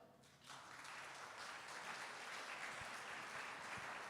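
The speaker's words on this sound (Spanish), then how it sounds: "Den un aplauso al Señor." A church congregation breaks into applause, rising after a brief quiet moment into a steady, even wash of clapping that stays faint and distant throughout.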